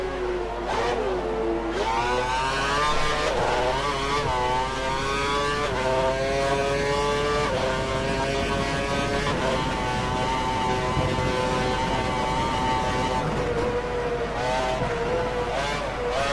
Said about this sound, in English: That engine did not sound healthy there.